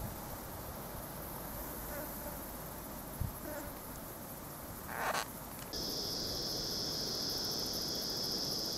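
Faint outdoor insect buzz throughout, then a high steady shrill of cicadas starts partway and continues, with a brief rustle before it.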